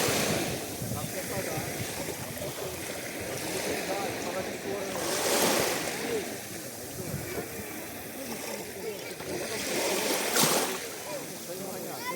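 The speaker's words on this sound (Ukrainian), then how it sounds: "Таке вечірнє море." Continuous evening surf of the Black Sea at Fontanka, Odesa, washing in, a broad rushing roar with two louder swells breaking, mixed with wind noise on the microphone.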